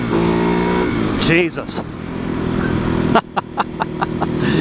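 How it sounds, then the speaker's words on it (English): A Ducati Hypermotard motorcycle engine revs hard while riding, loud and close with rising pitch sweeps and sharp gear-change breaks, under wind noise and a brief exclamation from the rider. "once it hits about 7 grand, the motor just wakes up"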